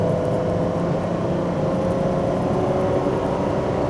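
A 2020 Ferrari 812 Superfast's 800 hp engine drones steadily with a smooth, constant tonal hum, no distinct downshift blips standing out.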